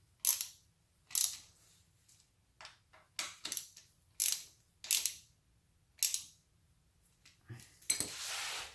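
Bolts on a car shifter housing are tightened by hand, giving a series of short metallic ratcheting clicks and rasps in irregular bursts, close and fairly quiet, with no talking.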